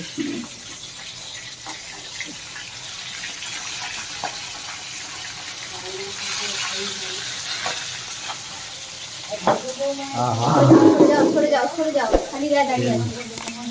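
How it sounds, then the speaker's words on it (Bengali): Rupchanda fish fry in hot oil, a soft steady sizzle that swells into louder spattering crackles and clinks toward the end, with some background voice. "গরম তেলে আর এই মাছ ভাজা হচ্ছে"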